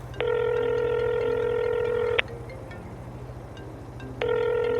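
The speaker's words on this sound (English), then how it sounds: "I can hear a phone ringing." A telephone rings in a video game, two long electronic ring bursts separated by a pause, loud and clear above a low rhythmic background hum.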